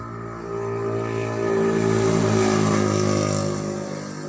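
A Viar Kasha electric motorcycle motor, under repair for a controller fault, is run up in an RPM test, producing a smooth, steady whine that swells and holds before easing slightly, close by and without talk.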